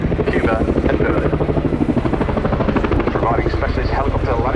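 A military support helicopter flies at the RAF Cosford airshow, its steady rotor thumping and engine whine running loud throughout while a commentator talks over it.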